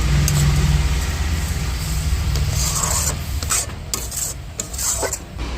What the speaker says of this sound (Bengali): এবার এটাকে ভালো করে নেড়ে চেড়ে ক্ষীর তৈরি করে নেব।